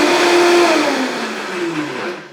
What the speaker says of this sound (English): So you put this all in your high-powered blender, and you just turn it on